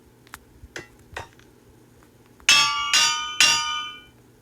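Toy-like anvils drop and land one after another: a few light taps first, then three loud, ringing metallic clangs in quick succession, each with a bright, resonant tail.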